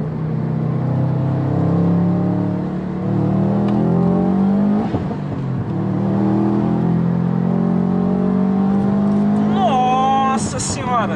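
Subaru WRX STI stage 2 tuned car with around 300 awhp accelerating from inside, the engine note climbing and falling in long sweeps with intake whoosh, loud and close, under occasional talk.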